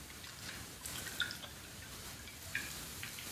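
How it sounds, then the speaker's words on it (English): Olive oil drizzled into a pan while cooking a mushroom omelette: faint, soft drips with a couple of small, brief splashes over a quiet, hissy background. "And I might drizzle a little bit more olive oil."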